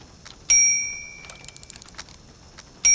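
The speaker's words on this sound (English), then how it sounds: "Now this could be the reception bell." A reception bell in the Syberia video game dings twice, sharp bright metallic rings at the start and end with a soft ticking, clockwork-like patter between them.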